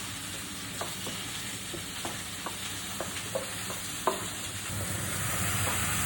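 Garlic and tomato paste sizzle steadily in a pan, with soft scraping and clicking as a utensil stirs at irregular intervals, fairly close and without talk.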